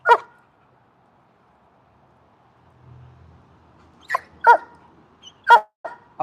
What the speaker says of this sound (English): Apollo barks, Layla chews the tire, all is right in the w